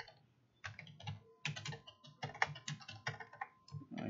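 Fingers type quickly on a computer keyboard with dense, uneven bursts of close, crisp key clicks. The room is otherwise quiet and nobody talks.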